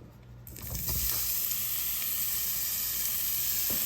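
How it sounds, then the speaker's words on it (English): Pheasant back mushrooms hitting bacon grease in a pan, a sudden onset of loud steady sizzling and hissing that carries on evenly, with occasional light stirring noises. "Do a little pre-cook on those pheasant tail mushrooms."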